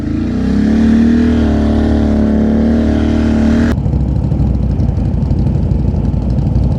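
A cammed Polaris Renegade XM 1000R snowmobile engine roars loud and close with a steady high-revving, rising tone for several seconds, then abruptly drops into a rough, rumbling, broadband idle-like chatter, with no talking.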